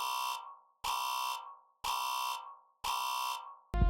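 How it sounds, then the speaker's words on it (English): A house burglar alarm blares in four long, loud, piercing tonal bursts with short gaps between them, each one cutting off sharply, and a harsh noisy burst starts right at the end. "the alarm began screaming."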